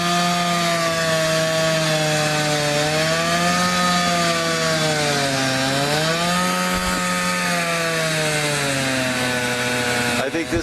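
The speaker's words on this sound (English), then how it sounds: "They've got a really long bar chainsaw there." A long-bar chainsaw runs loud and steady, its engine pitch dipping and rising as it bites through wood, continuous for about ten seconds.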